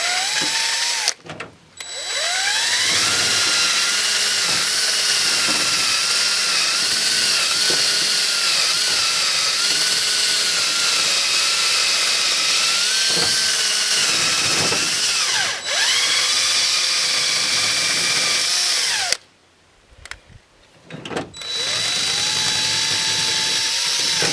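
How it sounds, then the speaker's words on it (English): A power tool scours rust from the magnet area of a Coleman Powermate generator flywheel. It makes a steady, loud whirring grind that shifts in pitch as it bears down, stops briefly near the start and again for a longer pause late on, and no one speaks over it. "Let's clean up that flywheel a little. It's pretty rusty here where the magnet is."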